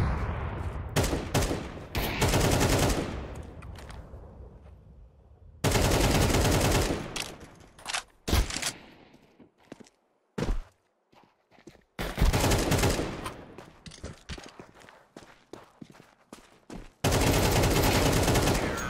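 Bursts of Counter-Strike 2 gunfire, rapid automatic volleys alternating with single shots and short gaps, loud and close, with several sustained stretches of continuous firing.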